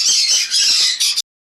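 A pair of red pineapple conures squawking close and loud in a quick run of harsh, shrill calls that stops abruptly.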